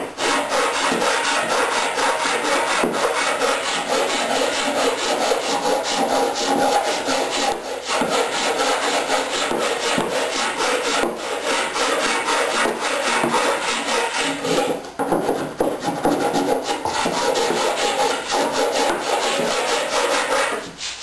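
Steady, continuous rasping as outside seams are sanded and faired smooth ahead of fibreglass taping, rapid back-and-forth strokes close and loud with no voices and only brief dips in rhythm.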